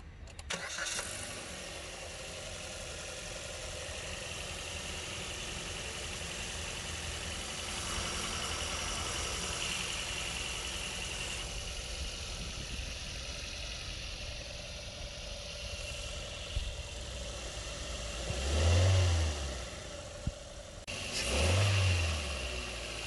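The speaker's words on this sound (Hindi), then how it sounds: "ये थी K15B पेट्रोल इंजन की साउंड" A Maruti Suzuki Vitara Brezza ZXi 2020 with a BS6 K15B petrol engine idles steadily, heard close in the engine bay, then gives two brief revs near the end that rise and settle back to idle.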